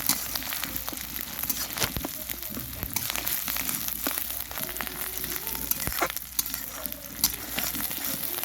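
Onion, ginger, garlic, tomato and green chili frying in hot oil, a dense continuous sizzle with frequent sharp crackles and spatula scrapes, close and fairly loud with no voices.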